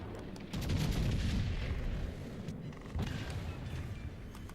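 Battleship main guns fire a salvo in a naval video game, a heavy booming blast that rolls into a long rumbling decay, with a second fainter thud following, loud and without talk.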